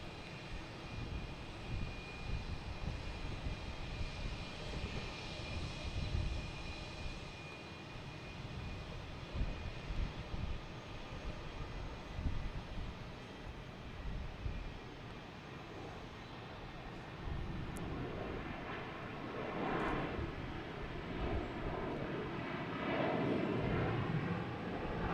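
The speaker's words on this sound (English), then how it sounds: "and A321 coming in from Atlanta." A Delta Airlines Airbus A321 arriving from Atlanta and landing at Boston Logan Airport, with a steady distant engine roar that swells slightly as the jet passes, continuous and fairly faint throughout, no voices.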